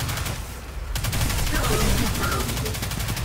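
Riskrunner submachine gun fired from the hip in Destiny 2. After a short pause the shots start again as a fast, steady automatic stream that runs loud and unbroken to the end.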